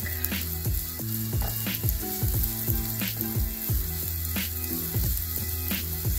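Onion and garlic frying in oil in a pan, a steady loud sizzle broken by repeated clinks and scrapes of a utensil, close by and with no talking.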